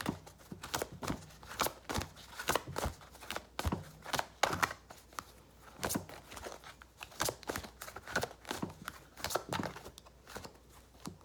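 Tarot cards being shuffled by hand, a steady run of crisp riffling and snapping bursts repeating close to the microphone with no talking.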